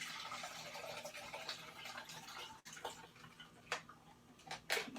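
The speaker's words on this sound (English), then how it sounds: "pour the water in." Water is poured gently into a simple home coffee maker, a soft continuous trickle with light clinks and taps from the machine, quiet and close with no talking.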